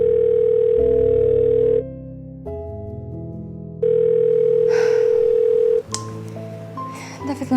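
An unanswered telephone call in an Indonesian drama series, heard as steady electronic ringing and dial tones that repeat in long sustained bursts, clear and alone with no voices.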